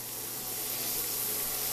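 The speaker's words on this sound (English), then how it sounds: "I have my amazing ghee butter, guys, right in there. That's melting through." Ghee butter melting in a hot pan for a high-fat, low-carb breakfast, giving a steady, soft, even hiss of sizzling fat with no talking.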